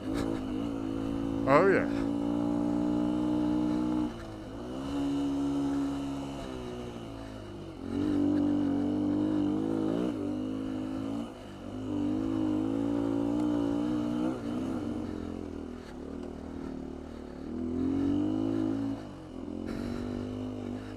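A 2019 Beta 125 RR-S dirt bike fitted with a 150cc Yamaha big bore kit is ridden on singletrack, its engine repeatedly rising and falling in revs as the clutch is let out, with a brief voice near the start.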